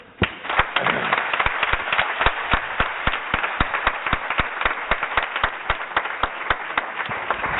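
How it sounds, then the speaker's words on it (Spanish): Audience applause at a round-table panel on cinema and inclusion: a steady run of crisp, fairly close hand claps, loud and sustained. "un aplauso"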